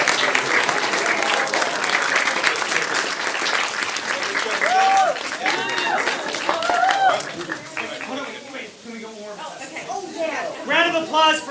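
Strong audience applause at a community singing competition awards ceremony, dense clapping with cheers and whoops, thinning in the last few seconds as voices and shouts break through the crowd.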